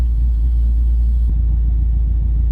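A 1956 Dodge engine running at idle, a heavy steady low rumble that holds even and loud from close by, with a faint click partway through.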